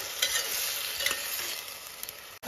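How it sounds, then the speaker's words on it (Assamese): Chicken being stirred and fried in a pan for pulao: continuous close sizzling with soft scraping stir strokes throughout. "এই চিকেনখিনি দি দিছোঁ দেই এইখিনি ভালকৈ লৰাই দিছোঁ"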